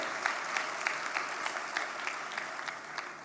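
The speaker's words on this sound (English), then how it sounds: "Let us give him a big round of applause." Brief burst of steady clapping from an audience at an economic forum main hall, many hands applauding together at moderate volume.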